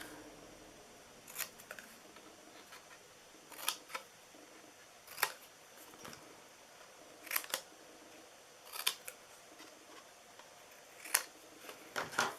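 Scissors snip through paper while a heart-shaped Valentine treat box is made, about nine crisp isolated cuts spaced a second or two apart, close and quiet with no talk.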